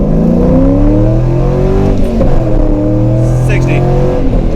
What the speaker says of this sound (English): Let's go ahead and hit the competitive driving mode and see what happens